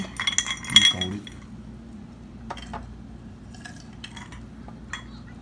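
Glasses clink together in a toast over drinks, including whisky with water, during a dinner on a trip to Hawaii: a cluster of bright clinks near the start with brief voices, then a few lighter taps of glass later.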